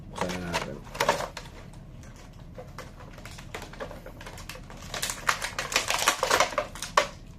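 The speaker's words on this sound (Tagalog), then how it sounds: "buksan na natin" Packaging of a wrestling action figure being opened up close, a run of quick crinkly plastic and cardboard clicks and rustles that grows busier and louder toward the end.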